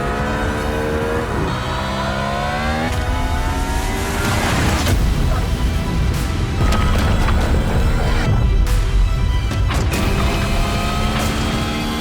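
A Hyundai IONIQ 6 N electric performance car drives hard, with rising and falling synthetic whine sweeps, tire and road roar, and loud surges of acceleration over several seconds.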